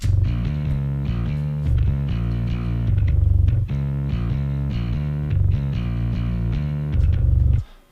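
A metal bass guitar runs through a SansAmp PSA1 amp plugin, giving a thick, gritty, distorted low tone that chugs loudly in repeated phrases and cuts off at the end.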